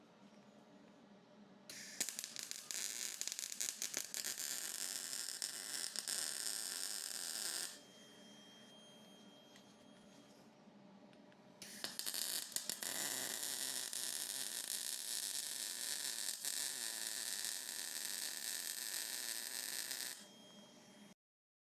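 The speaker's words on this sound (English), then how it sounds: "we're just going to weld this end up, and then we'll move over and do the other end quickly" Two long runs of steady, crackling electric welding on a steel welding table, buzzing loudly for several seconds each, separated by a quieter pause and ending abruptly.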